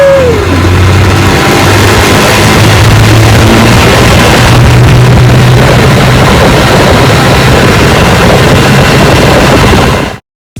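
A vintage Evinrude Golden Jubilee outboard motor runs loud and steady on a bayou test, a continuous engine roar with a low hum that holds for about ten seconds before stopping abruptly.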